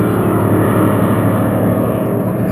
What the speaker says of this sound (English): Helicopter had to come back.